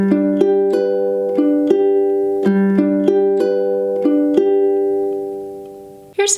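Fingerpicked ukulele pattern for a song, played at song tempo: clear plucked notes ringing in a steady repeating eighth-note rhythm, close and solo, about six seconds long.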